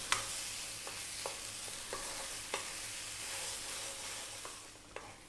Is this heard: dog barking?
no